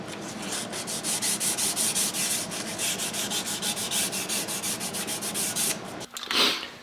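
Sandpaper rubs steadily back and forth across the walnut stock of a Winchester Model 88 rifle, a close, even rhythm of scratchy strokes for about six seconds before a brief pause and one last scuff.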